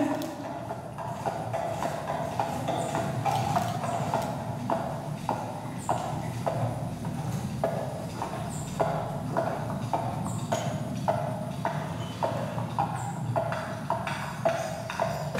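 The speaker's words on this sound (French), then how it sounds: "quand le cheval devant galope" Horse hooves clip-clopping in a steady, quick rhythm of hollow knocks throughout, moderately close and even in loudness, over a low droning background.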